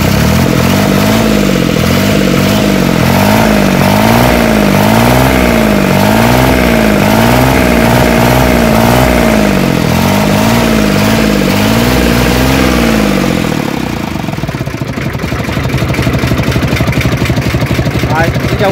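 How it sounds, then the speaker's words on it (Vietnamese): A used Iseki 3510 tractor engine runs loud and close, chugging with a steady rhythmic throb that roughens and shifts toward the end, with someone talking over it. "máy nổ cũng còn êm lắm nha anh chị"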